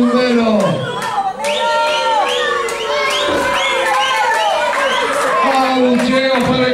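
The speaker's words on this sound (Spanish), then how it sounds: "Abucheo para Equalizer, aplausos y aliento para el bombero." A loud wrestling crowd at a Lucha Extrema show shouts, jeers and cheers in overlapping waves of rising and falling voices, close and dense throughout.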